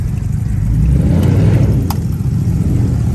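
A Chrysler 300 Hemi V8 running a catless exhaust rumbles loudly with a deep, steady drone that swells as the revs rise, heard close up and alone with no talk.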